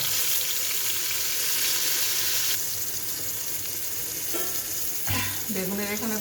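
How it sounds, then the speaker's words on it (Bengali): Eggplant slices coated with chili powder, turmeric, salt and ground cumin fry in oil with a steady, close sizzle and occasional stirring clatter from a utensil in the pan. "এখন বেগুন ভাজিটা ভেজে নিব।"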